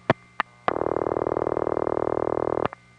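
Call through a Crossbar tandem switch with overlap outpulsing, in 1974 Queens telephony: a few sharp clicks, then a two-second buzzing burst of rapid pulsing, ending with another pair of clicks.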